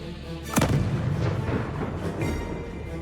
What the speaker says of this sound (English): After the armored vehicle exploded,